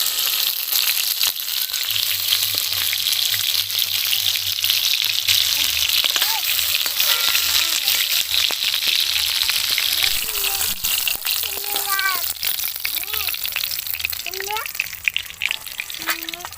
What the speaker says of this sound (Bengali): সেন্ট বের হচ্ছে মাছ ভাজা থেকে